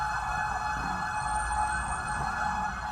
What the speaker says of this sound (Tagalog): Sunod-sunod ang dating ng mga fire truck mula sa Karatig Lungsod.